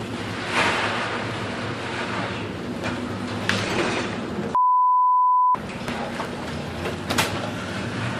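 Storm-driven waves at sea surge and crash in a continuous broad roar with occasional heavier impacts, interrupted midway by about a second of a steady electronic beep tone.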